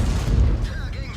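Tank cannon fire in World of Tanks from a Tiger II facing a T-34-85 firing high-explosive shells: a heavy, booming low rumble that sustains throughout, with a voice talking over it.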